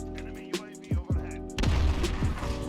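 A grenade detonating in Call of Duty: Modern Warfare, heard as a few dull booms followed by a louder, sustained rumbling blast, moderately loud amid other game noise.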